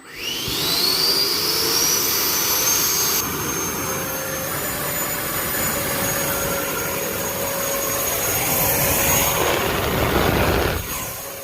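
A loud, steady high-pitched whine and rushing roar of an 80mm electric ducted fan in an E-flite F-18 model jet spinning up to half throttle and holding speed for several seconds, then cutting off.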